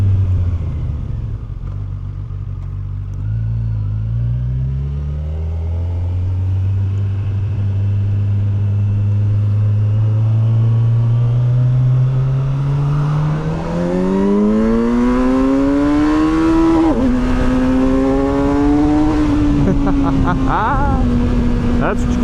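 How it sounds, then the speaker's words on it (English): Kawasaki Versys 1100 SE inline-four motorcycle revving in sport mode, its intake note rising in long smooth sweeps from a low rumble to a loud howl, heard close up with wind rush and a rider speaking over it. "love the intake sound on this bike"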